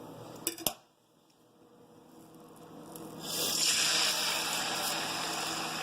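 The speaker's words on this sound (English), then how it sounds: "I went ahead and heated up the pan real quick. So you're going to go ahead and dump these eggs in there." Two quick clinks of a pan, then beaten eggs poured into the heated pan, starting as a faint hiss that swells into a steady, bright sizzle and holds there.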